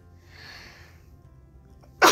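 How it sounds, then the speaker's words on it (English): A single sharp human sneeze bursts out loudly near the end, preceded by faint breathy sounds and a quiet room. "Sneeze."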